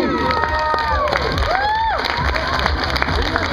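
A crowd at a Dutch oven cook-off in Mesquite cheers loudly with whoops and high whistles, excited shouts overlapping in a dense, continuous roar.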